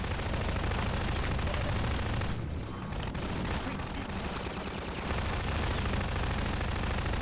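Sustained automatic gunfire aimed at a gunship in the video game Half-Life 2: dense, loud bursts of rapid shots with a short lull partway through before the firing resumes.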